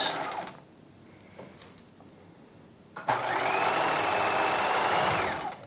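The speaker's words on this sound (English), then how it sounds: "and then just sew to the bottom of the pocket and back stitch again" Sewing machine back stitching and then running down a pocket seam on a 1950s dress skirt: a few short clicks and stops, then a loud, steady whir for about two and a half seconds.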